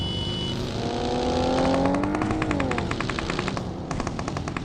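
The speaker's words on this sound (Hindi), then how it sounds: "मैं सीधा बग्गी को पकड़ के निकल जाता हूँ" A buggy driven in the video game PUBG, engine droning and shifting pitch as it moves, with rapid bursts of gunfire rattling over it in the second half.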